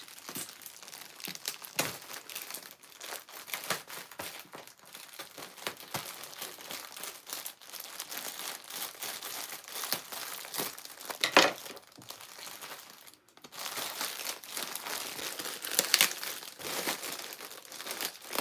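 Taped plastic bag package being torn open up close, with long stretches of crinkling and crackling plastic and sharper tearing rips, fairly loud and continuous with no talk.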